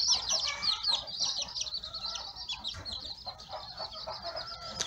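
Free-range ornamental chickens cluck and chatter continuously in a poultry pen, a busy overlapping chorus of close, high clucks and calls with occasional wing flaps.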